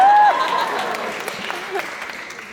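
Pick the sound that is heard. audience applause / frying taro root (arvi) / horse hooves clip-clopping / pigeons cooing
audience applause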